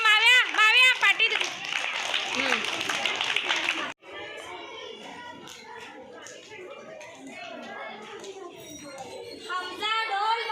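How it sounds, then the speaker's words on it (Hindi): Schoolchildren in a classroom clapping together for a classmate during an Urdu reading game, bursts of rhythmic clapping mixed with loud children's voices and chatter, close and lively throughout. "माविया के लिए तालियां"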